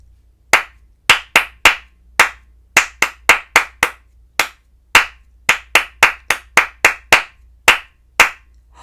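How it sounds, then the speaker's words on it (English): Sharp, distinct claps beat out a rhythm-reading exercise in a music lesson, about two dozen in an uneven pattern of pairs and gaps, close and clear with no talking over them. "Let's do number 9 with just clapping, no words."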